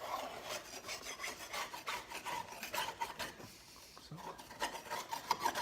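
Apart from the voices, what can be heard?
scraping grass clippings off a plastic lawn mower deck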